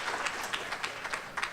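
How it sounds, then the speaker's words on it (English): Audience applause at a science talk about the Great American Eclipse: a short burst of moderate clapping from a crowd, steady and fairly soft, with no voices over it. "So round of applause to David for making that happen."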